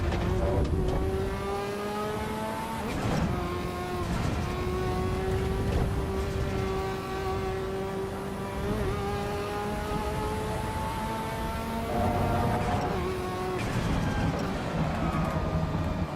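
A Toyota Supra engine in a racing video game drones and climbs through repeated revs, with brief drops at gear shifts, loud and continuous across the run with rumbling road noise beneath.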